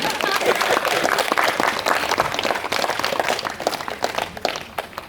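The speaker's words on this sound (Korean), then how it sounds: "이럴 때는 박수도 한번 쳐주면 좋은데." Audience applause during a Buddhist dharma talk at Silsangsa temple on Jirisan, a loud burst of many hands clapping that gradually thins and tapers toward the end.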